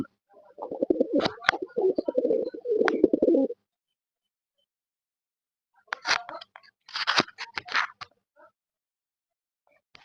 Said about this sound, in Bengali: আমাদের হোয়াইট লক্ষাটা খুবই গরম একটা পায়রা ওর খুব রাগ আর খুব স্পিড আপনারা দেখুন ওর ভয়েসটা শুনুন